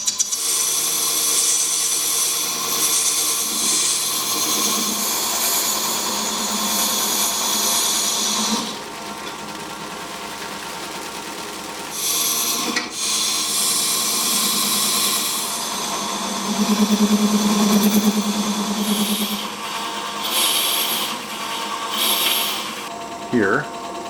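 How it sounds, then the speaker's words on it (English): A lathe tool chatters and jumps against an out-of-round workpiece as a giant sphere is turned, a loud continuous machining roar with rough irregular scraping, briefly easing mid-way, while a voice talks over it. "You hear how the tool's jumping right now? That's because this isn't in round"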